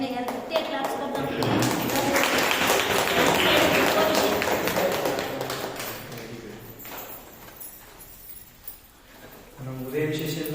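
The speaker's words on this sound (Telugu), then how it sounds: "లంచ్ తర్వాత వాళ్ళు మన జాయిన్ అయ్యారు గట్టిగా క్లాప్స్ కొడతాం." A group at a meditation gathering claps loudly together. The dense, steady applause lasts several seconds, then fades out, and speech comes before and after it.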